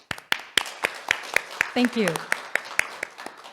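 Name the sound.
applause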